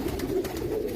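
Pigeons cooing softly and continuously in a loft where a hen has just hatched a chick, a low steady murmur filling the whole short moment with no voices.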